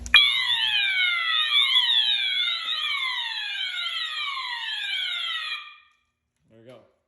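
A Notifier SFP-1024 fire alarm system sounds close and loud with rapidly repeating sweeping whoop tones and a high steady pitch, cutting off after about five and a half seconds, followed by a brief faint electronic blip.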